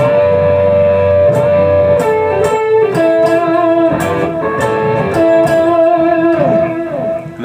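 Electric guitar plays a solo with double stops, bright sustained paired notes and picked attacks in a steady phrase, loud and close with no speech.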